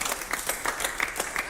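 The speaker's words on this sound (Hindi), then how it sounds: "जब भी ऐसी ताली बजाना" A crowd of people claps in a quick, steady rhythm, loud and close, a brief burst of applause on a reality show set, with no talk over it.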